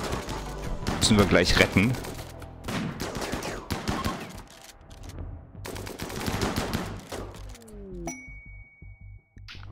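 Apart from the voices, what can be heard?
gunfire from the video game Rimworld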